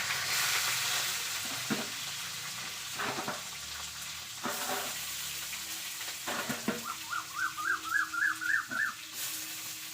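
Onions and curry leaves fry in a pan with a soft, steady sizzle, broken by intermittent stirring scrapes, and a short run of chirpy bird-like calls near the end.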